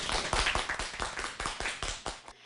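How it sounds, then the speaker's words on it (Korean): Students in a classroom clap together to celebrate the passing of a local ordinance on preventing wild bird collisions, a brisk, close group of rhythmic hand claps lasting about two seconds before stopping abruptly. "박수 한번 칠까요,"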